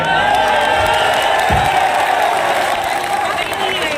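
A crowd at a political rally for an Uttar Pradesh member of parliament claps and cheers loudly and continuously, with whoops rising above a dense roar and an amplified voice booming through.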